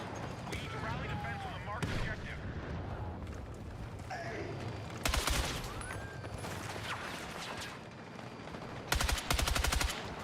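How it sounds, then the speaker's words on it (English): Gunfire in a first-person shooter, scattered shots and distant battle noise building to two loud rapid machine-gun bursts near the middle and end, with a player talking over it. "I'm literally just firing"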